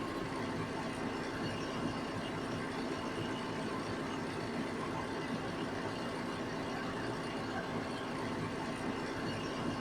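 A TYM T4058PC compact tractor with a loader sits idling, its engine a steady, even drone heard from close by for the whole stretch, unchanging and without speech.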